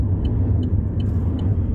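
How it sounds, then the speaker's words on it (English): A large dump truck passes by a rail line at Bungower Rd, giving a steady low engine rumble with faint repeated high squeaks throughout. "some sort of dump truck going on there."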